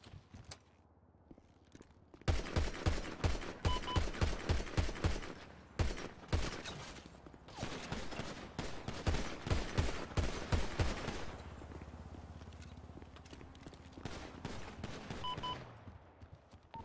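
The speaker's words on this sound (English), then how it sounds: "Who's shooting out here?" Gunfire rings out outdoors in a long, rapid fusillade of overlapping shots, loud bursts packed densely for several seconds and then easing into scattered, fainter reports as it tapers off.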